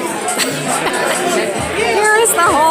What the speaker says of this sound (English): And here's the whole crowd.